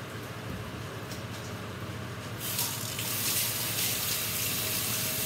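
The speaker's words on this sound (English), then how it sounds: "Wash off the hands." Water runs from a tap while hands are washed, a steady close rushing stream that grows louder and brighter partway through, with no talking.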